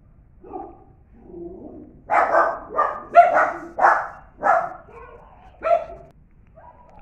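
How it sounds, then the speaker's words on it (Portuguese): Dogs barking at an approaching garbage collector in a home garden: a run of loud, close barks and yips in uneven bursts, with a few softer whimpering sounds early on. "Desculpa o barulho do cachorro."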